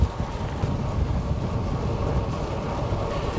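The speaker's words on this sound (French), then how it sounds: "Il y a beaucoup de vent aujourd'hui." Strong wind roars and buffets steadily against a microphone while out cycling, a continuous loud low rumble with no voices heard.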